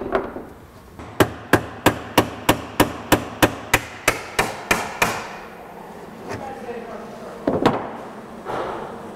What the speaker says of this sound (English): I'm going to start out with the chisel and hammer.